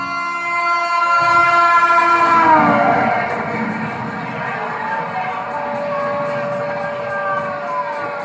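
A Howrah–Chennai Coromandel superfast express train pulls into platform one with long, loud horn-like tones over a heavy, steady rumble that carries on after the horn fades.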